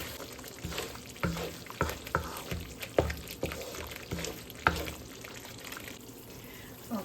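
Black glutinous rice fries in hot oil while being stirred, giving a steady sizzle broken by rhythmic scraping strokes of the spoon through the pan, close and moderately loud.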